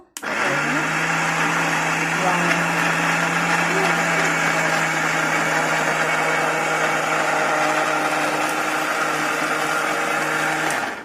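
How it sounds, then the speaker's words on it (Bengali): An electric blender grinds onions into paste, a loud, steady whirring motor with a constant high hum that starts abruptly, runs unbroken for about ten seconds, then cuts off. "এইভাবে করে আমি সবগুলো পেঁয়াজ ব্লেন্ডার করে নিচ্ছি।"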